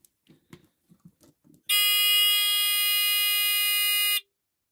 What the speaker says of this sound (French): dedans, on a un petit buzzer. Donc je vais vous le mettre en route quand même.